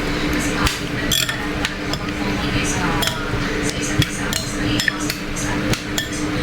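Raw shrimp are stirred with olive oil in a bowl, with light clinks and scrapes of utensil on dish beneath steady talking nearby.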